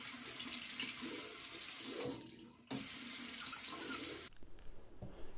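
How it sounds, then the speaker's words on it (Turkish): Roborock S5 Max robot vacuum brush being washed under a running tap, with steady loud water splashing into a sink that briefly shifts as the brush moves through the stream, then the flow cuts off. "fırçamızı da yıkadık ve kurumaya bıraktık"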